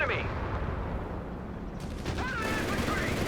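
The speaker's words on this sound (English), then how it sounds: "Jaegers getting pummeled by the Greyhound and its machine guns and its" Greyhound armored car in Company of Heroes 3 opening up with its machine guns and 37mm gun, a dense, continuous rattle of gunfire with heavy battle noise throughout, plus a brief burst of whistling effects near the end.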